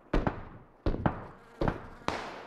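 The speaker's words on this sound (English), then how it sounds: "Southeast 140 silenced UMP shots." Distant silenced UMP gunshots in PUBG: four muffled, sharp cracks arriving in two pairs at irregular intervals, each fading quickly into quiet.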